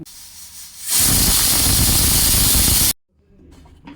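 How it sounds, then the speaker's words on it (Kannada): A pressure cooker cooking boti gojju lets off a loud, close burst of hissing steam for about two seconds, then cuts off abruptly, leaving faint kitchen noise. "ಈಗ 2 ವಿಷಲ್ ಹಾಕ್ಸೋಣ"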